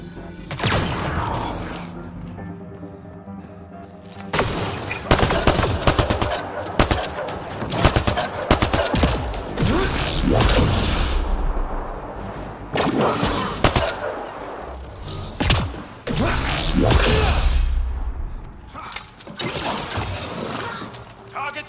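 Bursts of gunfire and shattering impacts in a Mass Effect Andromeda firefight on Havarl, loud and broken up by short pauses, with brief spoken lines mixed in.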